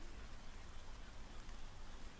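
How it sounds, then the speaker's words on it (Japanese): Steady rain falls as a soft, even hiss of countless drops with faint patters, continuous and close, with no voices heard. "雨の音。"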